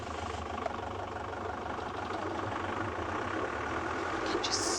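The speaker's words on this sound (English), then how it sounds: "Oh, and I'm going to move the car." A safari vehicle's engine runs steadily with a low rumble on a game drive at Ngala Private Game Reserve, a continuous close drone throughout.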